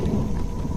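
Steady rain pours down with a low rumble of thunder in a storm, a dense continuous wash of sound with no voices.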